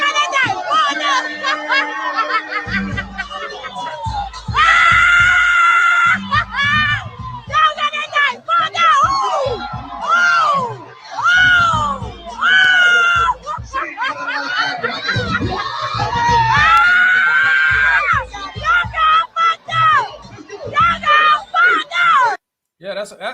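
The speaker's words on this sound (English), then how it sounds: "They're cheering it on." Lively crowd at a street gathering cheers, whoops and yells almost nonstop, with excited voices overlapping and chatter running throughout.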